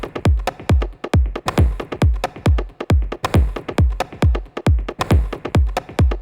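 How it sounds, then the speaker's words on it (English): A looped groove built from a kick drum and two kinds of percussion, with punchy kicks landing on a steady, even pulse and brighter percussive hits filling between them, repeating cleanly with no voices. "kick and 2 different types of percussion."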